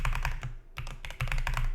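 Fast typing on a computer keyboard to enter a Linux update command on a Proxmox server, heard as dense, close clicking keystrokes with one brief pause midway and no speech.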